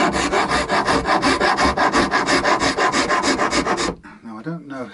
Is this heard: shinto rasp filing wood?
yes